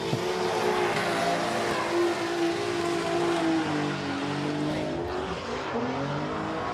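Drift cars setting off at a drift battle event, engines droning and revving steadily at a moderate distance with faint tyre noise.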